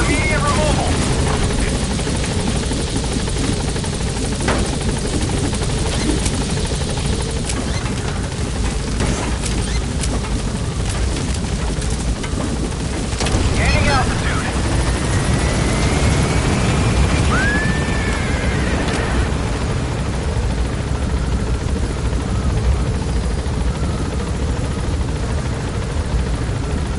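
Helicopter flying in Metal Gear Solid V: The Phantom Pain, a loud continuous rotor and engine roar that stays steady throughout, with a pilot's radio voice talking over it and occasional rumbles.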